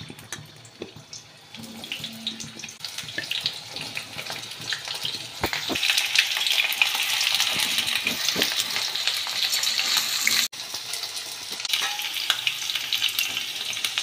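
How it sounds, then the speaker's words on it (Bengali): Potatoes fry in hot mustard oil in a kadai, a continuous loud sizzle that swells after being added, with occasional scraping stirs and clinks close by. "এবার আমি আলুটাকে ভেজে নেব।"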